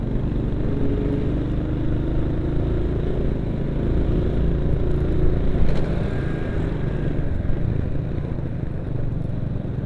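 A manual motorcycle rides along a road in Wanaraja, Garut, its engine and road noise a steady, close, continuous roar with no talking.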